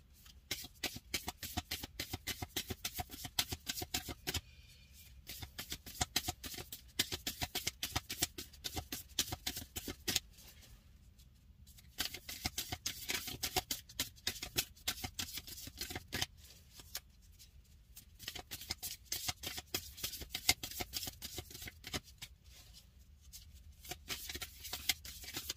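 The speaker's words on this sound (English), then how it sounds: "let's shuffle" Tarot cards are shuffled by hand in repeated bursts of rapid, crisp riffling and sliding, close up and quiet, with short pauses between rounds.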